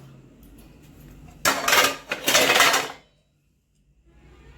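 Metal pots and pans, including a kadai, clatter and clank together in two loud bursts as they are set down and arranged in a rack, then quiet.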